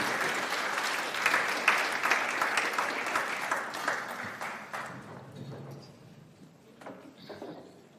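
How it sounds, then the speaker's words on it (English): An audience gives a round of applause for panel speakers coming to the stage, dense steady clapping that swells and then fades out to a few scattered claps. "can we have a round of applause?"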